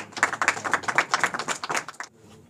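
A small audience at a Christian community gathering claps in a brief burst, distinct individual claps fairly close and rhythmic for about two seconds before stopping abruptly into near quiet.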